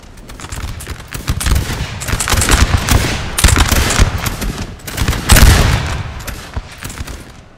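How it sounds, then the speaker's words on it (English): Line infantry loose musket volleys at Borodino in Napoleon Total War, a loud, crackling barrage of overlapping shots that swells and ebbs, with the heaviest bursts about halfway through and near the end. "Line infantry here just shooting and tooting"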